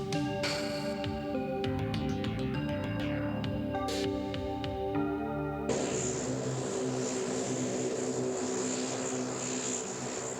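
Musical tones give way midway to the steady, droning roar of a NOAA propeller reconnaissance plane heading toward a hurricane's eye, constant and fairly close, with a high whine on top.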